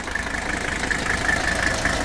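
A Mercedes 300SD diesel engine with a modified fuel system idles with a steady, loud clattering knock, heard close up with no talking.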